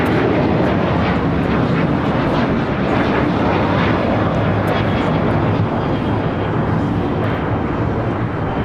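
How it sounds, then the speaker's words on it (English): An Alaska Airlines Boeing 737-800 takes off at LAX bound for Portland, its jet engines a loud, dense, continuous roar that fills the whole stretch with no letup and no voices. "taking off to Portland on a 737-800"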